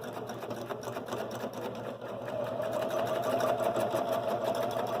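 A sewing machine stitches a quilt loaded on a Grace Cutie quilting frame, a steady, close mechanical whir that rises a little in speed and pitch partway through, with no talking.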